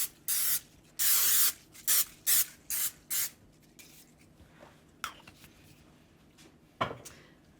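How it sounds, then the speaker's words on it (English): Cooking spray is misted onto cake pans in a series of short hissing bursts, about six in quick succession. Faint clinks and pan handling sounds follow. "And now grease all of your pans so that the cakes don't stick."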